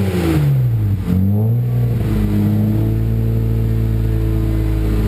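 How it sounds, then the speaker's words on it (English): A BMW 335i with an HPF 3.5-inch stainless steel Gen 2 exhaust revs up close and loud, dipping briefly before climbing and holding a steady high drone. "Okay, Ryan, you want to rev it up?"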